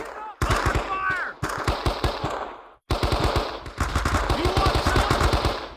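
Bursts of machine gun fire in the World War II shooter Men of Valor, loud and close, in several rapid rattling volleys separated by brief pauses, with a voice speaking briefly between them.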